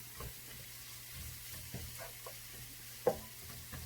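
Stew ingredients for a beef oxtail, knuckle and feet balbacua get stirred and sautéed in a pan, a quiet low sizzle with a few soft scrapes and one sharper knock of the utensil near the end, no talking.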